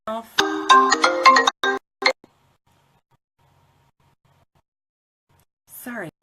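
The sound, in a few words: phone ringtone ringing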